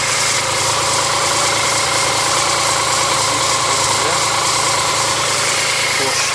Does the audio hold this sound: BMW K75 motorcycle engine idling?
yes